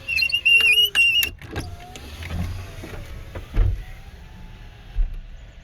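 A 2004 Chevy Silverado's failing power window motor whirs slowly with a strained hum inside the cab, its faint whine running for a few seconds amid clicks and thumps.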